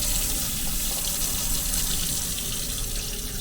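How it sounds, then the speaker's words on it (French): A kitchen sink faucet runs steadily, a continuous broadband rush of water close by that holds even and loud throughout with no voices. "je vais allumer le robinet de l'évier de cuisine"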